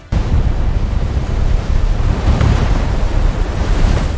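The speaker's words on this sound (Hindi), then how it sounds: "समंदर में 1 किलोमीटर मेगा सुनामी उठा और पल भर में कोस्टल एरियाज डूब गए।" Roaring ocean waves of a tsunami surging onto a coastline, a loud, continuous crashing wash with wind-like rumble that starts abruptly and holds steady without talk.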